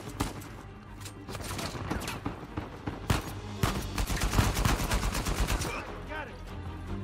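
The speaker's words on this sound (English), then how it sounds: "And who's shooting at me?" Video game gunfire in Uncharted 4 aimed at the player, with bursts of rapid shots and scattered single cracks building to a dense volley, plus brief vocal sounds mixed in.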